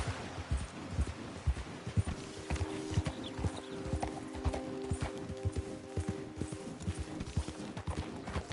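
Horse hooves clip-clop in an irregular trotting rhythm in Red Dead Redemption 2, with a faint neigh and soft background tones behind the steady footfalls.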